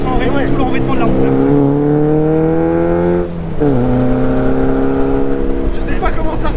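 A Caterham Super Seven 1600K roadster's engine drones loudly from the cockpit while driving, revs climbing steadily, dipping briefly at a gear change, then rising again.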